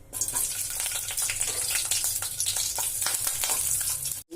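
Broken green chillies crackle and sizzle steadily in a few spoonfuls of hot oil for a chutney, with dense close spitting and brief stirring scrapes and a short drop near the end.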